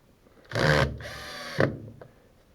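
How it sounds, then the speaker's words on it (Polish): A cordless screwdriver drives screws into wooden boards during window installation in a self-built house, giving two close whirring bursts, the first longer, followed by a short tail. "Przykręcamy kolejne deski, które muszą wychodzić trochę poza obrys muru."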